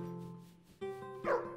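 A dog in the game UnderMine barks a couple of times over looping game music, the barks short and mid-level.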